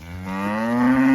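Cattle mooing on a ranch cattle drive of cows yet to calve, one long, loud, rising moo close by, drawn out over about a second with no talking.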